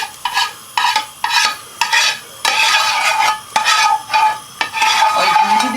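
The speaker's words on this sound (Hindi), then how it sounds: "अब यहाँ पर हम इसके अंदर इसको ऐड करेंगे और इसको तड़का दे देंगे।" Spinach stirred into a ghee tempering in a pan for Lahori hareesa, with rhythmic repeated stirring scrapes over a light sizzle, close and alone.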